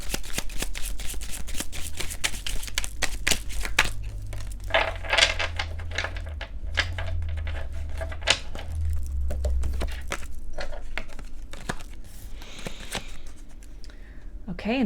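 Tarot cards from three decks being shuffled by hand, crisp riffling and flicking in repeated bursts with soft taps and thuds between, close up, while someone speaks throughout.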